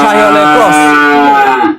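A long, loud cow moo with strong harmonic bands rings out for nearly two seconds at a cattle market where Indian Brahman and Sahiwal cattle are being sold, sounding close and filling the whole clip.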